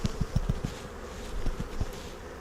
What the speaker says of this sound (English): I'll shake the bees off first.